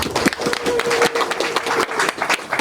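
A crowd applauds at an outdoor official ceremony with a government minister present, dense irregular clapping at moderate distance with a faint voice and scattered crowd noise underneath.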